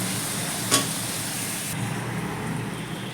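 Whisked sour yogurt hits spices in a hot pan on a lowered gas flame while cooking mutton kasha, giving a steady soft sizzle with a brief sharp hiss near the start.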